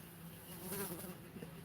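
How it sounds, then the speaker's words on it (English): A bee buzzes near an open door, a steady close hum that rises and falls slightly as it moves, with no talk. "I don't know if y'all heard the bee. The bee just came inside the door."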